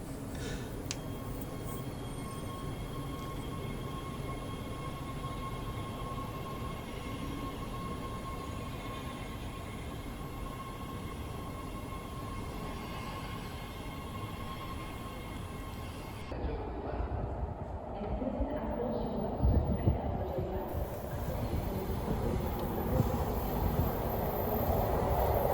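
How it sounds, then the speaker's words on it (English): An LA Metro subway train approaches through the station, a long low rumble and hum building steadily in loudness over about twenty-five seconds, with a tonal whine early on and heavier roar near the end, no talk. "The vibes of an approaching subway train are always so nice"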